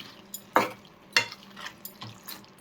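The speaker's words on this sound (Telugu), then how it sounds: "మనం ఇందాక వేయించి పెట్టుకున్న బొంబడాలు వేసుకొని ఒక్క నిమిషం కలుపుకుందాం" Fried bommidala fish being stirred into a cucumber curry with garam masala, giving a few soft sizzling scrapes spaced about half a second apart over a low pan hiss, close and fairly quiet.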